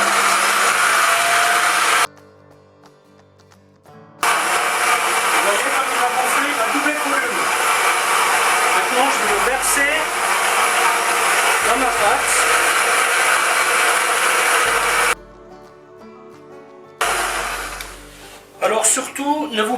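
A bread machine set to speed 2 kneads bread dough with a loud, steady motor whir that cuts out twice briefly before resuming, while a person talks over it.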